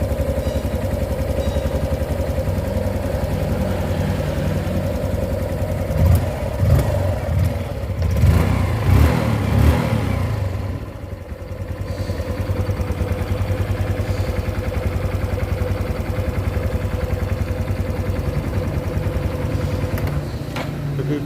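A 2022 top-trim Honda Wave 125i motorcycle engine idles quietly and evenly, a steady low putter running the whole time, with a brief clattery bump midway and no talking.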